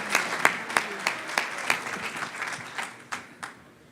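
An audience applauds in a hall at an honors event, a fairly thin round of clapping with distinct sharp claps standing out, tapering off toward the end.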